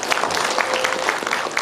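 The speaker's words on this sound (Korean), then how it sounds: "박수 한번 주시죠" A concert audience at a band's regular performance gives a brief, steady round of applause, dense clapping close and even throughout.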